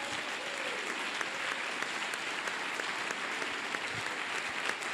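A church congregation applauding together to acclaim the Lord at a Sunday service, steady sustained clapping from many hands filling the room, with faint voices mixed in.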